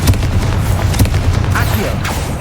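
Confringo blasting spell from a Harry Potter video game, dense rumbling booms and explosive thuds in quick succession, loud and close, with a voice heard briefly amid the blasts.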